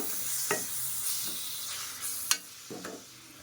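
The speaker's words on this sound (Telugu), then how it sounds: "ఇలా బాగా కింద నుంచి పైకి చక్కగా మిక్స్ చేసుకోవాలండి" A spoon scrapes and stirs fenugreek leaves and tomato curry in a pan, a few distinct scraping strokes over a soft, steady sizzle, close and fairly quiet.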